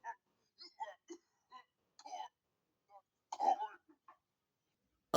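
A child gives short, quiet, playful coughs and throat clearing in separate little bursts with pauses between, mixed with some speech sounds.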